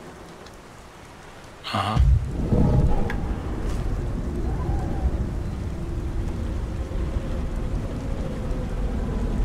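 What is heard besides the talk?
rain falling in the video game Beyond Two Souls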